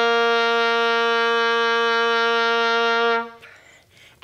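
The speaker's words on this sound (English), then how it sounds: "So the lowest note you can play on the oboe" An oboe's lowest note, low and reedy, is held steadily for about three seconds, then cuts off, leaving faint room noise.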